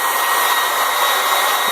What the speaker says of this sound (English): So I'm keeping the hairdryer very close to the paper.